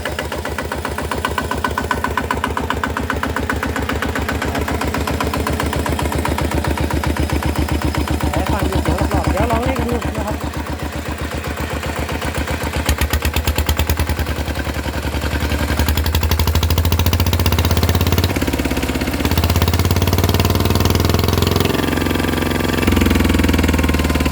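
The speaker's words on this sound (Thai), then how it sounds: "นะครับติดเครื่องแล้ว ติดเครื่องได้ปกติครับ ฟังดูเสียงครับ ว่าเสียงมันต่างกันไหม" An engine fitted with an RT injector in place of its ET one runs at a steady idle, a loud close rhythmic chugging that swells and roughens toward the end as it revs a little harder.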